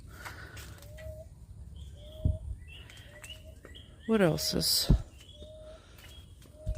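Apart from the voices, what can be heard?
birds singing in an orchid garden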